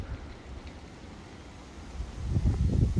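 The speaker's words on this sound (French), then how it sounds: "il y a les rafales de la fin du monde dans la forêt" Strong foehn wind gusts tear through a forest, a low, rough buffeting roar that stays steady before swelling louder and heavier toward the end, with no voices.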